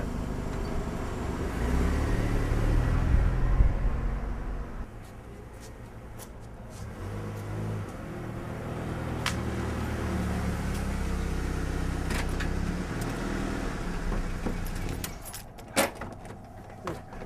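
A car pulls away to be parked across the street, its engine rising loud and close for a few seconds, then settling into a steady running hum with a few light clicks and clanks.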